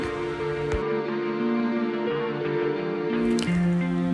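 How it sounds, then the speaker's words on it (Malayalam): Milk poured into a pan of roasting vermicelli, a close liquid splashing and trickling with soft sizzle and drips, heard alone without talk. "അതിലേക്ക് പാൽ ആഡ് ചെയ്ത് കൊടുക്കുകയാണ്"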